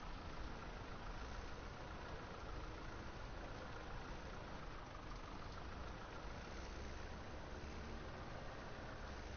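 A tractor engine idles steadily in Farming Simulator 17, a constant low rumble and hum that holds at an even level throughout with no talk.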